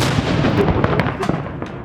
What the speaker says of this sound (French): on est tombé le jour de passage de la reine du Danemark, alors ça tirait au canon.